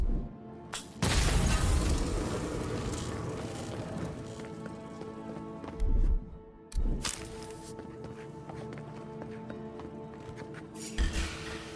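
An electric grenade goes off in the fantasy RPG Avowed: loud low booms burst out at the start and twice more mid-clip, leaving a crackling, rain-like rumble of game effects and ambience that runs on throughout.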